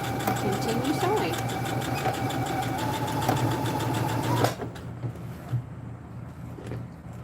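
Sewing machine stitching a box reinforcement on the handle of a bandana bag, running as a steady close mechanical whir for about four and a half seconds before stopping, then faint handling sounds.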